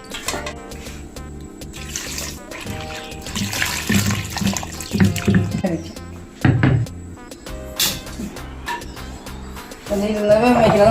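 Water splashes and pours into a cooking pot in a home kitchen while shrimp and breadfruit curry is being prepared, with clattering of utensils and people talking nearby.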